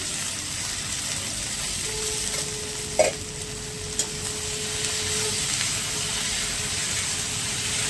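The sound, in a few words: tomatoes frying and being stirred in a pan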